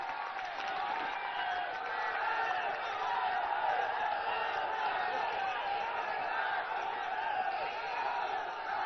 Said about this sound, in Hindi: जब तक माननीय राहुल गांधी जी आए तब तक तालियां नहीं रुकनी चाहिए।